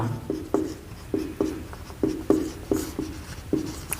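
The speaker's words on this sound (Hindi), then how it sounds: "मार्कर में दिक्कत आ रही है कोई, थोड़ा सा दोबारा लिखते हैं" A marker scratches on a board in short, rhythmic strokes, about a dozen distinct squeaky taps and scrapes spaced evenly, close and fairly quiet.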